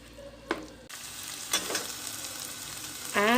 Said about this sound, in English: Saute it well for 2 minutes in medium flame.